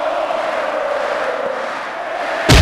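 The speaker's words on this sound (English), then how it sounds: "Man, do you hear that crowd?" A dense WWE Raw wrestling arena crowd roars steadily throughout, a continuous wash of cheering and shouting that ends in a sudden burst of louder noise.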